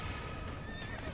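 A horse in an Attack on Titan video game whinnies with a steady clatter of galloping hooves underneath, all loud and close over the short moment with no talk.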